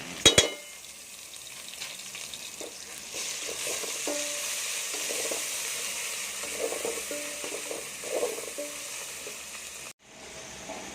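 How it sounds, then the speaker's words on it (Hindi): Garlic-ginger paste with green chilli paste sizzles steadily in a hot pan, a continuous bright frying hiss with occasional stirring clinks, a sharp clatter at the start and a brief cut near the end. "अब इसमें लहसुन अदरक का पेस्ट, हरी मिर्च का पेस्ट ऐड करेंगे"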